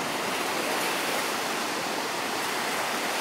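Baltic Sea water and waves washing onto the shore at Šventoji, a steady broadband rush of surf filling the whole stretch without pause.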